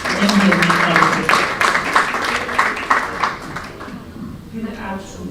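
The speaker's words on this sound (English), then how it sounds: "Please clap for the MD of Net Pharmacy." Applause from an audience at a pharmacy event welcoming the managing director of Net Pharmacy, a steady wash of many hands clapping that tapers off toward the end.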